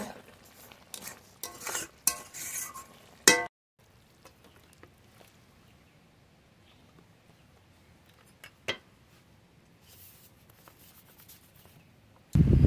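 Spoon scraping and knocking in a pan as drumstick curry is stirred with sugar, a cluster of clattering strokes at the start, then a long quiet stretch with one sharp clink and a final loud bump.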